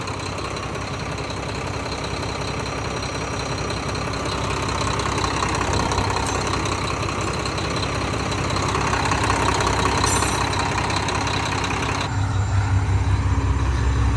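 A diesel engine, previously losing fuel prime, idles steadily with a low, knocking rumble, close and continuous throughout.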